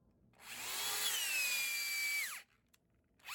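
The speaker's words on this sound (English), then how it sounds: "you drill in short steps, or pecks, and pull the bit straight up to clear out the wood chips" An auger bit bores into a wood tree stump in one sustained whine that sags in pitch under load, then stops abruptly, leaving quiet before another start.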